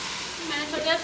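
Sliced onions fry in a pan at home with a steady, gentle sizzle, while a faint voice murmurs underneath.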